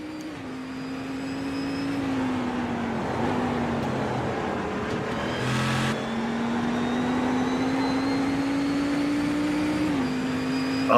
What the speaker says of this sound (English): the best sounding car out there is the Cadillac